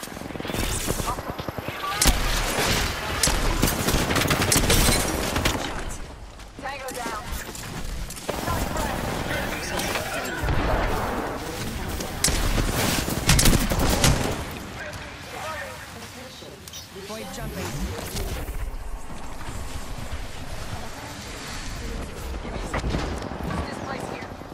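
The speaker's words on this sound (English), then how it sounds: "I am taking fire, friend." Gunfire crackles through a battle royale video game firefight in dense, overlapping bursts that stay loud and continuous, with players talking throughout.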